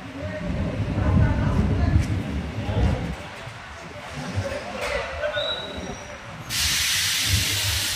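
A train stands at Amalner railway station, with hissing, steam-like venting and station bustle around it, voices talking through the scene, and a sudden broad loud hiss bursting in near the end.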